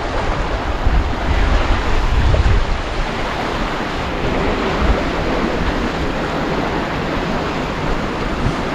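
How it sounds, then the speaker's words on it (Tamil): Loud, continuous rushing rainy-season flood water roars steadily throughout, a dense wash of turbulent flow with no voices. "எப்படி தண்ணி அடிக்கிறது"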